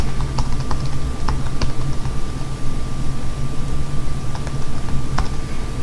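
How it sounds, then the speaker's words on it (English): Rapid typing on a computer keyboard while writing a Python program on a Raspberry Pi 3B+, steady clicky keystrokes close up over a constant background hiss, with no voices. "type in your string,"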